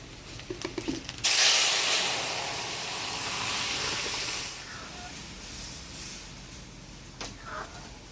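Dal goes into hot oil with dried chilli, panch phoron, bay leaf and crushed ginger at a village cooking fire. It erupts into a loud, close sizzle that slowly fades to a steady hiss.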